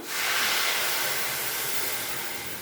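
Hot water from a kettle hits a sizzling pan of seasoning for a sprouted green gram stir-fry, bursting into a loud, close rushing hiss that holds steady and slowly eases off, with no voices.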